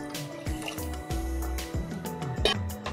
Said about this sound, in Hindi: अब इसके अंदर पानी डालते हैं। पानी आपने खुला डालना है